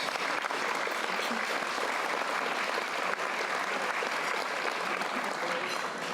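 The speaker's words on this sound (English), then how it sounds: "Let's give Bob a big round of applause." A large audience at a bar association annual meeting gives Robert A. Clifford a big round of applause, dense sustained clapping with no pauses, loud and even throughout.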